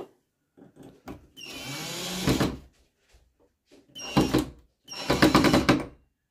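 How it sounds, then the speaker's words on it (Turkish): Power drill boring a new hole during home furnishing work, with two or three loud whirring bursts separated by short pauses and small knocks, close by. "Yeni delik açabilecek misin ondan?"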